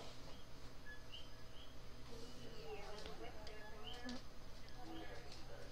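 A mosquito buzzes faintly as a thin, steady whine, mixed with a low background hum while voices are heard at times.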